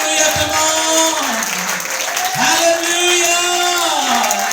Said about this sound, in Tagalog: Sige lang, palakpak lang kay Lord mga kapatid.